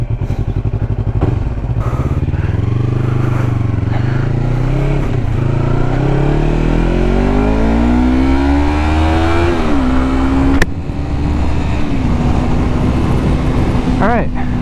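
A motorcycle heads out onto the road, its engine loud and close as it revs up through the gears with rising and falling pitch, plus brief clunks and wind roar, under a rider's talking.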